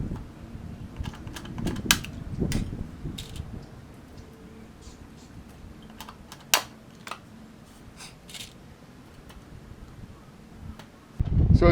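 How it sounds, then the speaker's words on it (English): A pop rivet tool squeezes rivets into a cheap motorcycle muffler during repacking, making quiet repeated clicking and squeezing with several sharp snapping pops spread through the clip and a louder clatter at the end. "Tie the pop rivet in there and just start squeezing. And you'll soon find out why it's called a pop rivet."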